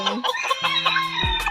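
A stag chicken clucks close by while eating, making a quick series of short, choppy clucks and croaks. The sounds end in a louder, lower call.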